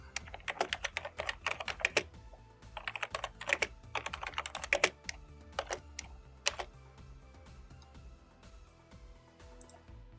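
Close typing on a computer keyboard, with quick bursts of key clicks separated by short pauses and a few slower single taps near the end.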